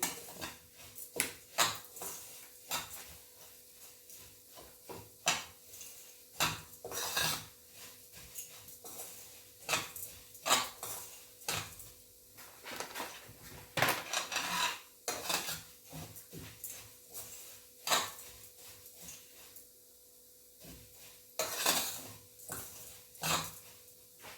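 Flattened rice (aval) is heated and stirred in a pan, producing repeated scraping and clinking strokes in an irregular rhythm, fairly close and moderately quiet, with no talking.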